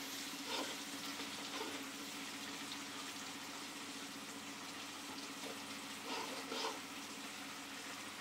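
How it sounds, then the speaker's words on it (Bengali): Eggs frying in a pan on a stove, a steady soft sizzle with faint stirring scrapes, quiet and close, no voices. "ওইদিকে ভিউয়ার্স আস্তে আস্তে ডিম গুলো ভাজা হয়ে যাচ্ছে"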